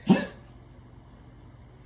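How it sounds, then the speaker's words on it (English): A single sharp dog bark rings out near the start, close and loud, then fades to a quiet room with low background noise. "during the reading, my dog just decided to say hello"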